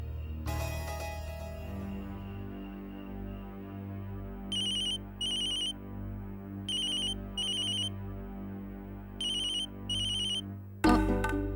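A telephone ringtone in a Tamil TV drama scene rings in three pairs of short electronic bursts, each pair repeating a warbling tone, fairly loud over a low background hum, with a louder sound cutting in at the end.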